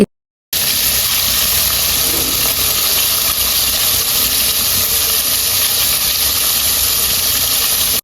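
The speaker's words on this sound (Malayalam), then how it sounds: "അവർ വരുന്ന മുന്നേ തന്നെ ഞാനിതേ ബ്രോസ്റ്റഡ് ഇവിടെ പൊരിക്കാനായിട്ട് സ്റ്റാർട്ട് ചെയ്തിട്ടുണ്ടായിരുന്നു" Broasted chicken fries in a small pot on a stovetop at home, a loud, steady sizzling hiss that starts after a brief silence and continues unbroken with no voices.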